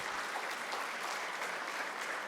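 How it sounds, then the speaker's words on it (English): A crowd applauds steadily, a dense wash of clapping that holds at an even level for the whole stretch. "let us give you a round of applause"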